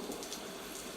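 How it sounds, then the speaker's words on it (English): Rain falls as a sound effect in a virtual play reading, a soft, even hiss of steady downpour heard alone at low volume. "Rain intensifies."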